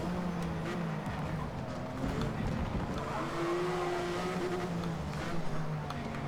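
A race car in Forza Motorsport, Super Sedans class, slows hard with a steady droning engine and tyre noise shifting pitch as it brakes, continuous and close throughout.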